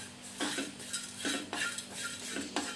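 Dry-roasting cumin, black pepper and kasuri methi in a pan, with a spatula scraping and stirring in repeated strokes about once a second, close up and with no talking.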